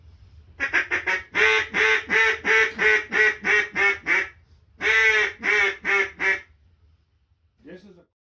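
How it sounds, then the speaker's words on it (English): A series of loud, rapid duck quacks from a handmade Louisiana cane duck call, in two bursts of about eight to ten honking notes each, close and forceful. "this is a little louder call for if I have to reach out to the duck"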